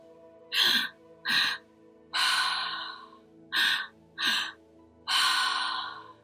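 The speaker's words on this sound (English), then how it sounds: "2 inhales, 1 into the belly, 1 into the heart, and then a gentle exhale out of the mouth." Six open-mouth breaths with pauses between: two short inhales, then a longer exhale, the pattern repeating twice, close and fairly loud with a faint steady hum behind.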